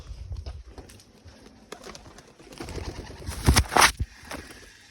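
Pigeons at a home loft, freshly let out, give soft low coos against a quiet background, then a few brief louder bursts that sound like wings flapping into flight near the end.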